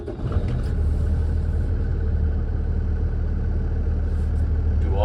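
The engine of a 2021 International MV607 box truck runs at a steady low idle, a loud, close, constant rumble from just after a brief start-up bump at the beginning, with no voices.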